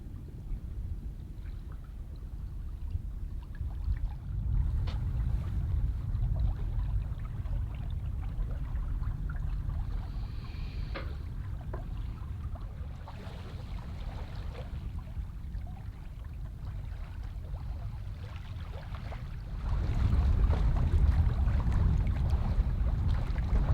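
Sailboat under sail heading down to Utö in Finland, with steady wind rushing past and water washing along the hull, a continuous broadband roar that swells louder near the end.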